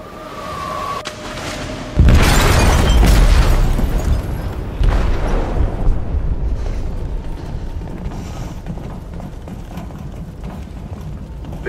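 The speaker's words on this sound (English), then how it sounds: "Detonated an explosive in the hold. The ship is sinking, sir." In the video game Detroit: Become Human, an explosive detonates in a ship's hold, bursting into a heavy, deep boom that rumbles on with debris and mechanical clatter before a second jolt and a slow fading roar.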